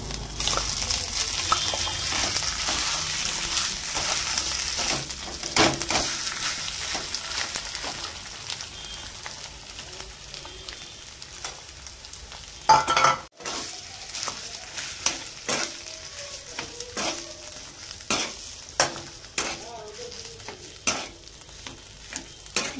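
Potatoes fry in a pan with a steady sizzle while a utensil stirs and scrapes them in irregular clattering strokes, close and alone with no voices.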